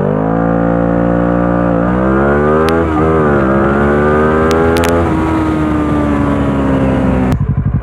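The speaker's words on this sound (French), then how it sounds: "pour faire le 0 à 100 avec la moto débridée" Derestricted motorcycle accelerating hard from a standstill to 100 km/h, engine revving up loud and close through several gear changes with rising then dropping pitch, ending in a sharp burst.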